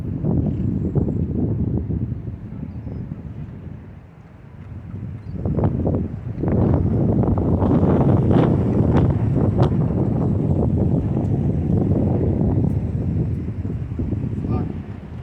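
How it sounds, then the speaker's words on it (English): Gusty wind buffets the microphone outdoors with a low, rumbling roar, while a person talks over it. "It's a bit windy out here today."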